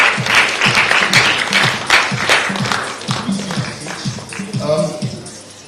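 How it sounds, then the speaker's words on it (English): Audience applause at a sustainability awards event, dense clapping under a voice announcing names over a PA, with rhythmic low thumps beneath. "Big round of applause for Oliver."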